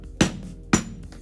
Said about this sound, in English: You just need to kind of hammer this part in to make sure it stays secure.